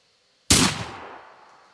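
A single loud shotgun blast erupts after brief silence, its sharp crack spreading into a long reverberant tail that fades over a second.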